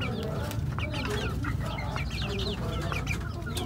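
Young chickens about two and a half months old in a coop cluck and chirp constantly, with many overlapping calls at close range over a low background rumble.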